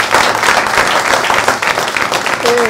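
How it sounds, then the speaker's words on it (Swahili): Audience applause for the performers Rapcha and Mwafreeka rises as a dense, sustained clapping from a close crowd, steady and loud throughout with a faint voice briefly near the end. "Wapi makofi ya Rapcha na Mwafreeka?"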